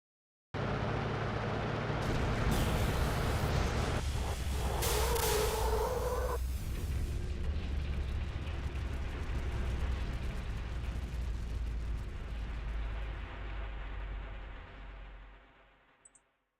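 A huge anti-atomic weapon explosion in the mecha game Front Mission 3 lands as a massive, loud roaring blast that swells, rumbles on for many seconds, then slowly fades to silence.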